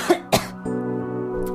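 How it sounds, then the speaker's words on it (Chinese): A singer gives two short, sharp coughs close to the microphone, then a brief throat-clearing hum that trails into a steady low tone. "我总想咳嗽，憋着不咳嗽唱歌好难受啊。"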